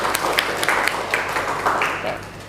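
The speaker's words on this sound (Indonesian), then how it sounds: "Beri tepuk tangan dulu untuk Risa." A university classroom audience gives a short burst of applause for a student, scattered hands clapping in uneven bursts with a few sharper individual claps, fairly close and moderate in loudness.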